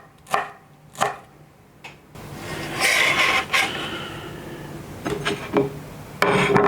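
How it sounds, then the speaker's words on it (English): A knife chops fresh herb stalks into small pieces on a board. Several crisp, close strokes come first, then a rough rubbing scrape, then more quick chops, with no talking. "we're just going to slice them across into some decent little pieces"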